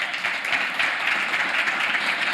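A conference audience applauds steadily as a company CEO comes on stage at a business council event, a dense even wash of clapping with no breaks and no talk over it.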